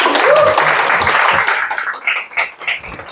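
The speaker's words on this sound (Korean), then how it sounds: "여러분들 뜨거운 박수가 필요합니다." Audience applause during an insurance sales lecture, a brief dense clapping that fades into a few scattered claps.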